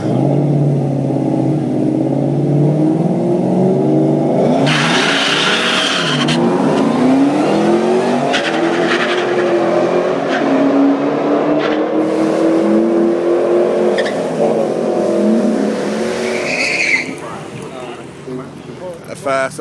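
A Chevrolet Camaro tuned on Mexican juice revs hard and races off, engine pitch climbing through gears with tire squeal, loud and close, while people talk over it throughout.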